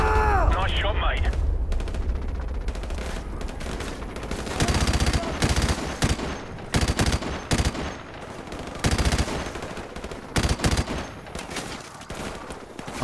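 M249 light machine gun firing in Call of Duty 4: Modern Warfare, loud dense bursts of automatic gunfire with explosions and battle noise, with game voices in the mix.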